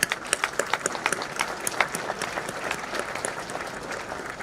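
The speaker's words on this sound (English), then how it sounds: "Let's applaud them." An audience at a Kenya School of Government graduation ceremony applauds graduates, starting with distinct rhythmic claps that blend into a moderate, even round of clapping.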